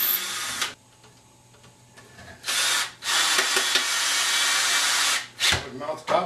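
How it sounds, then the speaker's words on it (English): A power drill pre-drills holes in antlers for a mount, whining loudly in two long bursts after a quieter pause, then a brief final burst. "And then I'll go ahead and pre-drill the antlers."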